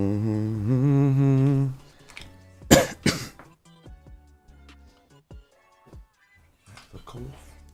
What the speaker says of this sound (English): A little bit of cough.